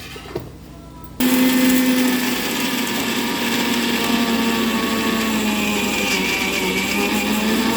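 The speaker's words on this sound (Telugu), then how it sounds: "ఇది మిక్సీ పట్టుకోవాలి." A mixer grinder whirs loudly and steadily, grinding coconut powder with cumin and fenugreek powder for an egg masala. It starts abruptly after a quiet moment and then holds a constant high-pitched buzz.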